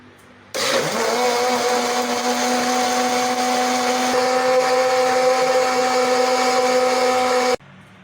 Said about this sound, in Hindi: अब इसको ग्राइंड कर लेंगे।